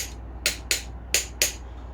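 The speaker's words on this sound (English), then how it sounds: "I have to use the side of the hammer" Four sharp metallic hammer taps on the front door of a Holden HQ car as it is tapped into alignment, struck with the side of the hammer in two quick pairs, close and clear against a quiet background.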